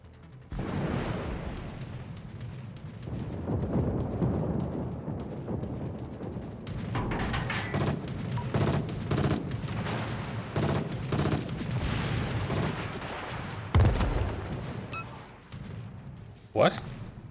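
Naval gunfire in a warship video game with Japanese carriers, repeated booming shots and rumbling blasts through the whole stretch, heavier thuds near the end, with a voice talking over it.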